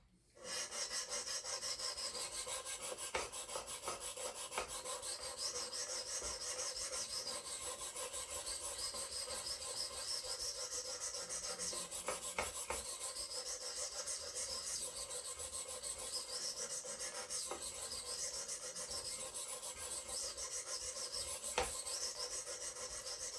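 A tanto knife blade is stroked steadily across a sharpening stone in a continuous rasping rhythm of repeated scrapes, close and alone.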